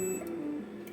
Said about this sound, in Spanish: Recién ese pitido no lo tenía.